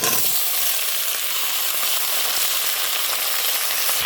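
Onion and garlic fry in a wok for a traditional Bengali taki fish and mixed vegetable dish, a loud, close, continuous sizzle that holds steady throughout, with no talking.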